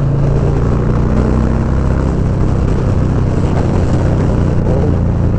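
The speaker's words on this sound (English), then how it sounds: "Man, I really like the sound of this bike now." Harley-Davidson Low Rider S motorcycle fitted with a TBR 2-into-1 exhaust, riding at speed: a loud, steady low engine drone with constant wind rush, close and continuous with no talking.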